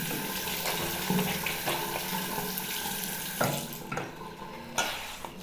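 Hot water runs steadily from a tap for washing the face, a constant splashing stream with a few louder gushes and clunks as hands move under it.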